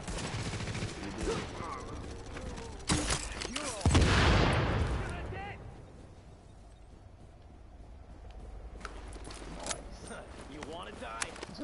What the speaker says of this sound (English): That's a pretty damn strong gun